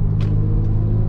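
An Audi A5 engine rumbles close and loud, a deep steady idle-like drone with a brief higher swell early on.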